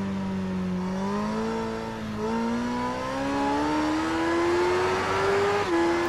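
A race car's engine note rises steadily as it accelerates through Edwards Corner, a loud, continuous climbing whine with a brief dip before the pitch drops near the end.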